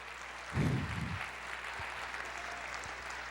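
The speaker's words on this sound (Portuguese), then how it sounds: "aplauda o Senhor" Congregation applause rises in a church service, a broad wash of clapping with a low thump near the start, then continuing steadily at moderate level with a faint hum beneath.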